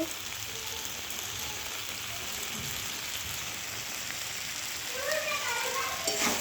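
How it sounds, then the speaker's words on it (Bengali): Soya chunks frying in a pan while being stirred, giving a steady close sizzle with scraping movement that grows slightly louder toward the end. "সোয়াবিনটা হয়ে এসছে, ভালো করে নাড়াচাড়া করে নিচ্ছি।"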